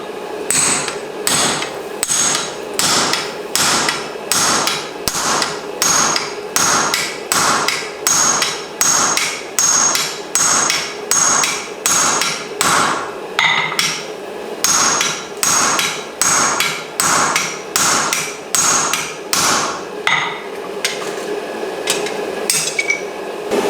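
Steady rhythmic hammer blows ring on an anvil face as a short length of rebar is upset while forging farrier-style box jaw tongs, around thirty sharp metallic strikes close up with a brief pause midway, no talking.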